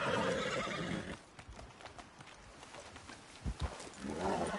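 Horse in the video game Red Dead Redemption 2 gives a loud whinny at the start, then a few scattered hoof clops, then a second neigh rising at the end.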